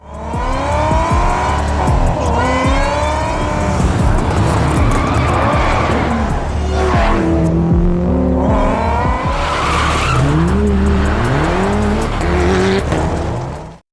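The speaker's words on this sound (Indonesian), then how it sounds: "Li yang gak kunjung mendapat kabar dari Aji seketika menggaspol mobilnya untuk mengejar" A racing car accelerates hard on a track, its engine roaring loud and continuous while the tires squeal and screech in rising and falling tones throughout, with no talking.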